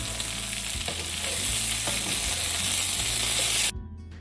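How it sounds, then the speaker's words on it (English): Pre-cooked bacon bits sizzling loudly in a pan, a dense steady crackle that stops abruptly near the end, with no one talking. "so here is some sizzle"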